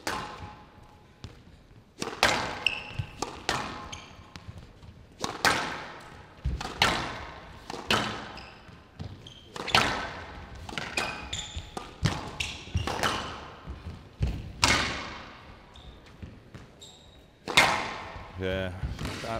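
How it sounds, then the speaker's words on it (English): Squash ball struck hard again and again during a women's match at the 2019 U.S. Open, a steady run of sharp, loud thwacks and thuds echoing off the court walls, with voices in the background. "Absolutely thumped the ball."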